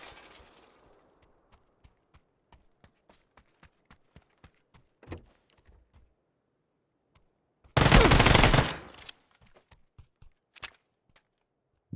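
Gunfire in the shooter game PUBG: a long string of evenly spaced single shots cracks out against near silence, then a loud dense burst lasts about a second, followed by a few scattered shots.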